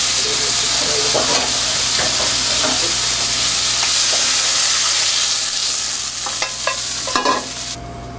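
Curry ingredients with added sugar fry in a pan, giving a loud close continuous sizzle with scattered stirring scrapes and spits, no talk.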